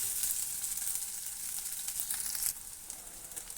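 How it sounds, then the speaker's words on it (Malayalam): Ginger sizzles with onions in a hot pan for a Kerala-style ginger pachadi, a soft, steady crackling hiss that drops a little partway through and continues quietly. "ഉള്ളി ഒന്ന് മൂത്ത് വരുമ്പോഴേക്കും ഇതിലേക്ക് നമ്മൾ എടുത്തു വെച്ചിരിക്കുന്ന ഇഞ്ചി ചേർത്ത് കൊടുക്കാം."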